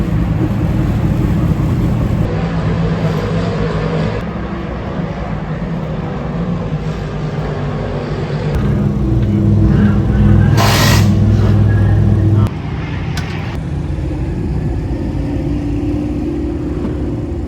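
Oval-track race cars at Airborne Park Speedway under the checkered flag: a steady, dense engine roar with a louder passing surge in the middle, heard from the grandstand area.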